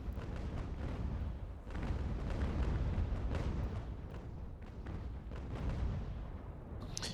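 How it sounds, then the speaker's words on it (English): Cannons fire in an American Revolution strategy video game, heard as a string of deep, rumbling booms that roll into one another over several seconds, low and muffled rather than sharp. "I've just shot one of my own cannons out."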